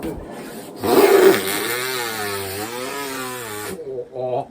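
A voice imitates a chainsaw in a Jimmy Stewart impression, a buzzing, revving drone that swells loudly then holds steady before cutting out, followed by a brief vocal sound.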